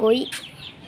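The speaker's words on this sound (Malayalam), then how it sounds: "കോഴിയാണ് ഇതാ കോഴി" A chicken gives a brief, close cluck, a single short call that fades quickly, with no other sounds around it.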